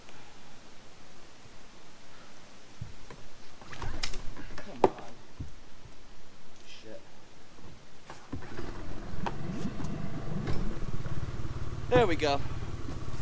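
Boat motor starting up and running steadily during Hurricane Idalia flooding, a low droning hum that grows in the second half, with rustling, clunks and someone talking over it.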